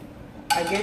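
A metal ladle clinks sharply against a pot while warm yam is moved into a boiler, a sudden bright clatter of metal-on-metal cookware after a quiet start.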